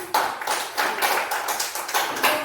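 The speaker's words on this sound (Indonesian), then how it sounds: "tepuk tangan buat semuanya" A group claps together for everyone at a school teacher-training session, a steady patter of hand claps close by with no talking over it.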